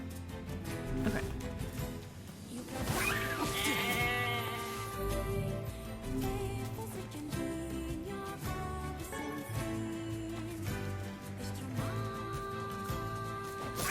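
Sheep bleating in the video game NieR: Replicant, heard over continuous game music, with a few bleats rising loud and close amid the steady soundtrack.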